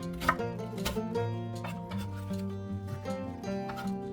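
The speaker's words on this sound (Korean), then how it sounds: "양파 반 개도 썰어줍니다." A knife slices half an onion on a cutting board for kimchi, with a few soft, close knocks early on and then fainter cuts under background music.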